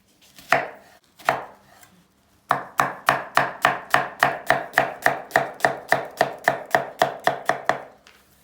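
A knife chops steadily on a cutting board, a few separate cuts and then a long, even run of quick rhythmic strikes, close and clear with no talking.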